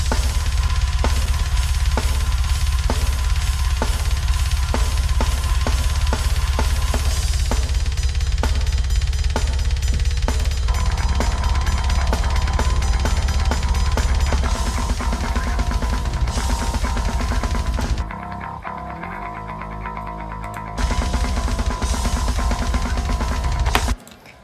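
A recorded metal drum kit mixed with its room ambience tracks plays loud and dense throughout, with a steady beat, thick low end and wide reverberant wash, briefly thinning near the end.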